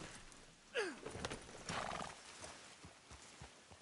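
A horse in the Red Dead Redemption 2 video game lets out a sharp whinny, then hooves and tack shuffle softly around it, all fairly faint and alone with no talk.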